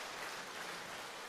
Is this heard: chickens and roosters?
no